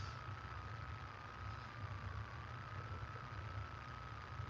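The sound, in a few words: van engine idling to charge power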